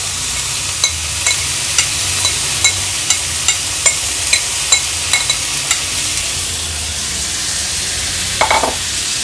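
Sprouted matki moth beans sautéing with turmeric in a pan, a steady hiss broken by regular sharp scrapes and taps of a spoon, with a brief clatter near the end.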